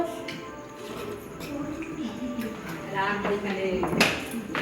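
A spoon stirs aloo dum curry with yogurt in a pot, giving light, irregular scraping and clinking taps against the metal while a person talks over it.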